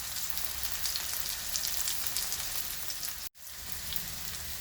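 Okra (bhindi) frying in a pan gives a steady, dense sizzle that holds evenly throughout, broken by one brief dropout near the end, close and moderate in level.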